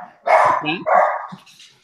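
A dog barks twice in quick succession close to the microphone at home during an online economics class call, loud and sharp with a short tonal whine between.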